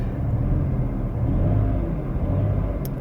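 A car engine idles with a low steady rumble and swells slightly as the gas pedal is pressed, a near, continuous drone with a brief click near the end.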